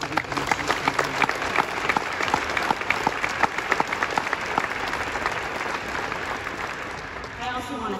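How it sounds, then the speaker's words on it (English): A press conference audience applauds steadily for several seconds, with dense, even clapping that fades slightly toward the end. "I think we should offer her a round of applause for her."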